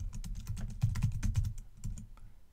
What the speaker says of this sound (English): Type your text.